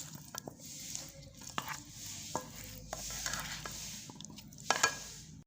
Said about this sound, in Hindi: 5 मिनट ये आलू पकेंगे हल्की आंच पे।